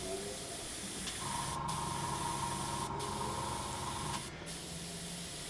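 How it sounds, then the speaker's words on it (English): An Iwata Eclipse HP-CS airbrush sprays paint in a steady, close, smooth hiss that runs almost unbroken, with a few very brief gaps where the trigger is released. "I'm really impressed on how smoothly it's actually spraying"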